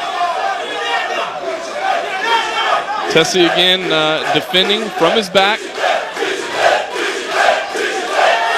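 A crowd at a Shooto Brazil MMA fight in Rio roars and cheers steadily in the background, rising in swells beneath continuous commentator talk.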